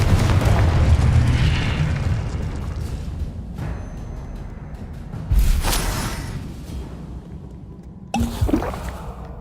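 In Hogwarts Legacy, the Confringo fire spell explodes with a loud booming burst that rumbles and fades, followed by further sharp blasts and crackles during the game's combat.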